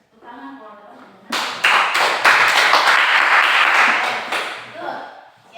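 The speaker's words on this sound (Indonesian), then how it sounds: "Tepuk tangan for teman-teman." Students break into applause in an English-language classroom lesson, a burst of many hands clapping that starts abruptly and holds loud for several seconds, after brief talk by a teacher, then tapers off.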